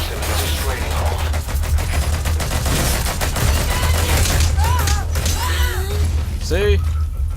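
Enemy soldiers fire at the player in Metal Gear Solid 5: The Phantom Pain, a steady rattle of game gunfire running throughout beneath speech, with scattered whistling and chirping effects near the end.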